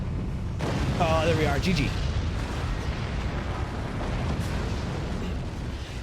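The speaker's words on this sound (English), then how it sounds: "These nukes are gonna put in some serious work this time." Nuclear warheads detonating in the physics-based fort-building strategy game Forts during a tournament match, a heavy sustained rumble of blasts under excited commentary that continues throughout.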